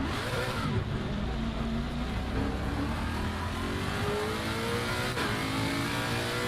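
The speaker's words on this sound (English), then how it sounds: "So take it nice and easy back onto the track." A race car at the Imola circuit rejoins the track with a steady, loud engine roar heard from inside the car, holding constant throughout with slight shifts in pitch.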